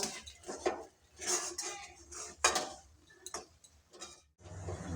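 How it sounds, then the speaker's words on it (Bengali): Dough for pitha is stirred and mixed in a bowl, with a utensil making irregular clinks and scrapes against the sides. The sounds are quiet and close, coming in short bursts. "নাড়াচাড়া করে ভালো করে একটা ডো বানিয়ে নেব"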